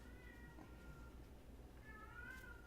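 A house cat meows indoors, two drawn-out cries separated by a pause, faint and somewhat distant over a low background hum.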